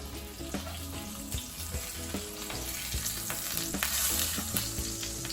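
Salmon fillet searing skin-side in a hot pan, a dense continuous sizzle with small crackles and pops, close and steady, with no talking.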